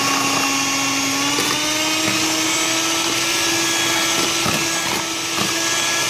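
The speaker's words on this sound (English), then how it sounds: "we're going to whisk this up on high speed until it's nice and thick" An electric whisk beating eggs and sugar at high speed for a gluten-free, sugar-free cake, producing a loud, steady motor whine with a constant pitch and occasional knocks of the beaters against the bowl.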